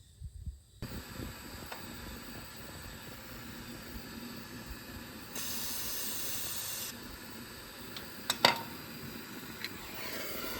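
Penetrating fluid sprayed onto the brake parts of a Buick, a short hissing burst of aerosol lasting about a second and a half amid quiet garage clatter and a few sharp metallic ticks.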